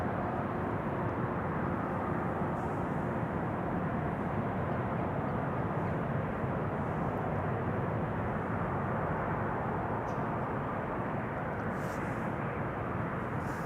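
A Norwegian airliner arriving from Stockholm at Amsterdam Schiphol Airport, heard as a steady, broad jet engine roar that holds evenly throughout.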